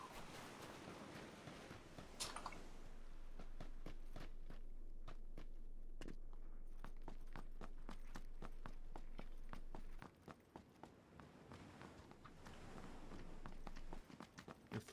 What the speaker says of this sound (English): Your footsteps are so loud over there.